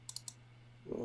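Computer mouse clicked during a solo star party with two telescopes, three quick, faint clicks close together over a steady low hum.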